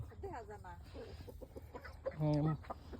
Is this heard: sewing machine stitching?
no